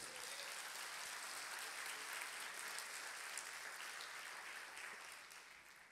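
A church congregation in Brazil breaking into sustained applause, a dense, even clapping that is steady and then fades slightly toward the end, with no voices over it.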